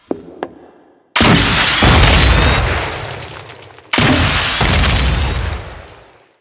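Two loud, sudden rocket launcher explosions designed for a game weapon, each a heavy boom with a long roaring, rumbling decay, preceded by a couple of small clicks and pops.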